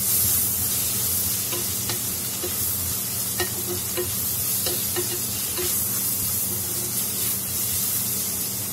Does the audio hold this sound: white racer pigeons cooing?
no